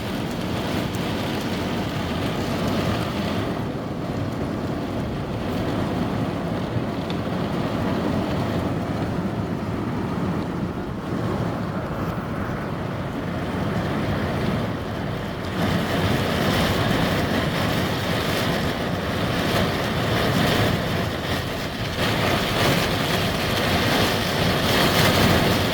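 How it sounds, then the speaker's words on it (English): Steady rain and gusting wind of a thunderstorm batter a van from outside, a dense continuous roar heard from within that swells louder about halfway through, with no talking. "Now it's just raining more and more."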